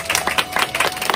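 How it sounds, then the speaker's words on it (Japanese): Audience applause at a stag beetle sumo tournament held in an insect shop, a short burst of close, rhythmic clapping from a small crowd. "じゃあもう一度温かい拍手をお願いいたします"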